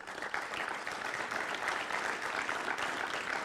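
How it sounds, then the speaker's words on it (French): Dense, even applause from a forum audience at an opening session in Marseille, a continuous wash of many hands clapping at steady volume throughout the short span. "et je souhaiterais qu'on l'applaudisse"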